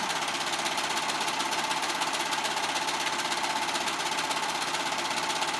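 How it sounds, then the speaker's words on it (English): A sewing machine runs in one continuous, fast mechanical whir with a dense rattling pulse, stitching the sides of an off-shoulder dress; the steady drone holds at an even level throughout, with no voices. "Sewing those sides"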